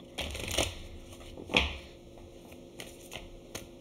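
Cards from The Universe Has Your Back oracle deck are handled and drawn, giving a few crisp papery snaps and rustles spaced out over a quiet background.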